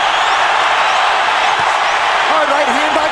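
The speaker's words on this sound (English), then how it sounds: "Crowd is going berserk." Arena crowd at a pro boxing bout between Golovkin and Canelo Alvarez roaring loudly and continuously, a dense wall of cheering that stays strong throughout, with a voice rising briefly near the end.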